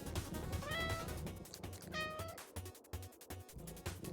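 Cat meows in the video game 30XX, two clear rising-falling calls under looping game music, moderately loud with no talking.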